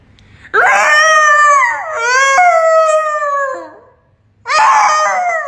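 A person vocally imitates a whale call with long, tonal, howl-like wails. Two sustained sweeping cries glide down in pitch, a short pause follows, and a third cry begins, all loud and close.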